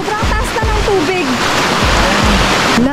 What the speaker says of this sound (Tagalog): Start na ng river rafting. Oh, grabe. Ang taas na ng tubig.